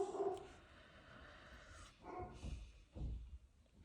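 Several dogs bark and yip faintly at a distance in short bursts, with quiet gaps between them.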